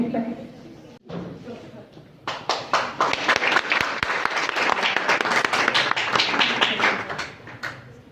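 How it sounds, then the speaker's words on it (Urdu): Loud applause for a prize winner at a women's Qur'an recitation competition, starting after a few seconds of someone speaking and swelling into dense, sustained clapping from a crowd that continues to the end. "وہ آپ کی زوردار تالیوں میں تشریف لا چکی ہیں"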